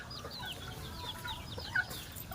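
A pair of turkeys on a farm in rainy weather give faint, scattered clucking calls over a soft wash of background noise, distant and quiet, with no voices.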